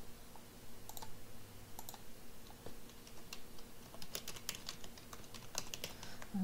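Typing on a computer keyboard, steady soft key clicks with occasional sharper taps, close and continuous with no talk over it.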